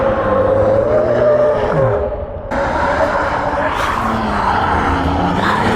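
A car roars loudly past at close range along a cordoned-off stretch, its engine note rising and sweeping as it goes by, with excited voices underneath.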